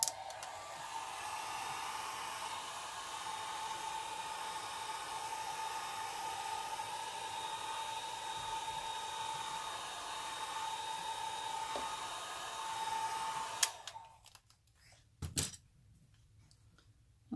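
A hair dryer blows steadily over an alcohol ink floral painting for about thirteen seconds, a close, even whooshing hum, then switches off, leaving a few faint clicks and handling sounds.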